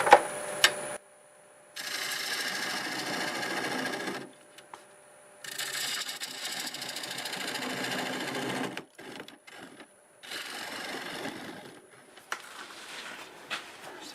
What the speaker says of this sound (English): Use a 1/2-inch bowl gouge to get most of this.